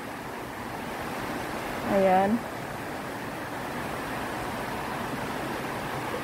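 River water rushes steadily with a constant broad hiss throughout, and a voice briefly says a single word near the start.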